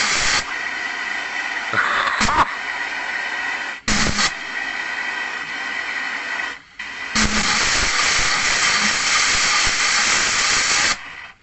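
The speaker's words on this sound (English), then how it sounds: "Why is steam coming out of there?" Loud, continuous steam hissing from a live steam engine in long blasts, briefly cut off twice, close up and harsh, with no talking.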